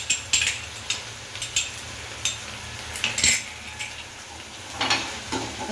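Red chilli mixture with tomato sauce stirred and sautéed in a pan, a spoon scraping and clinking against the metal in irregular bursts over a faint, steady sizzle, close and without voices.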